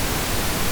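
Generated pink noise plays as a steady, dense hiss across the whole span, constant in loudness and without any other sound.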